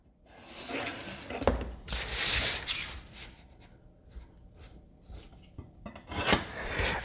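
Foam core board being roughly cut into a blank for a combat robot build, heard as a series of scratchy, rasping cutting strokes in irregular bursts with brief pauses between them, close up and moderately quiet, with no talking.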